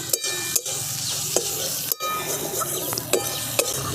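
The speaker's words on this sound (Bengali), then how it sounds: "দিয়ে দিচ্ছি চাট মশলা, আবার খুব ভালো করে সমস্ত কিছু আমি এর সাথে মিশিয়ে নিচ্ছি।" Chaat masala being stirred through a savoury dish in a pan, with a steady scraping and stirring rhythm, light sizzling underneath and a few sharp clinks of the spoon against the metal.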